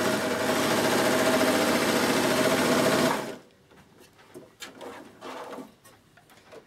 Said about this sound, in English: I'm going to stitch down here and see what happens with one needle